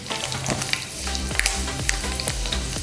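Fenugreek seeds frying in hot oil for a bitter gourd pickle, a loud steady sizzle with crackles and the scrape of stirring, close and without talk.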